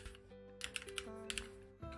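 Keys clack on a thick, wired Keychron Q1 QMK mechanical keyboard, a short burst of several crisp, close keystrokes over faint background music.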